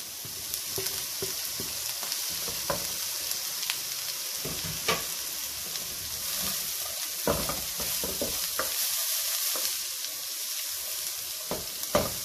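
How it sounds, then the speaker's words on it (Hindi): Capsicum and cabbage stir-fry in a hot pan for Schezwan chicken noodles, with continuous close sizzling and scattered scraping taps of a spatula; no talking. "और अब इसमें मैं शिमला मिर्च और बंद गोभी एक साथ डालने लगी हूँ"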